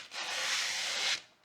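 A strip of protective film is peeled off a WD Elements desktop hard drive, a single steady rasping hiss about a second long, close and fairly loud, with no voices.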